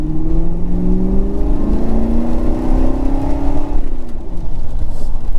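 A 2006 Ford Crown Victoria P-71 Police Interceptor with 3.27 gears pulls hard under acceleration. Its engine note climbs steadily and loud from inside the car, then drops off as the driver lifts near the end.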